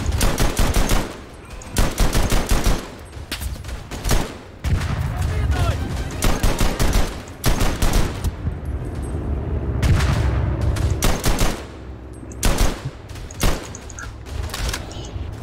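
Rapid bursts of machine-gun and rifle fire in the World War I shooter Verdun, loud and close, coming in dense repeated volleys with brief gaps and heavier booms, while a voice talks now and then.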